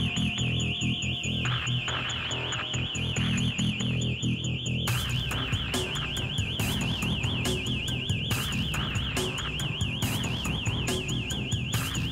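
A car alarm blares nonstop at a steady loud level during a nighttime police patrol in a French neighbourhood, its warbling siren tone repeating in a fast regular cycle with no speech over it.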